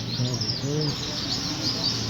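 Caged birds chirp steadily in a bird shop inside Qazvin's traditional bazaar in Iran, a dense layer of bright overlapping tweets over a constant low hum of the market, with faint voices murmuring nearby.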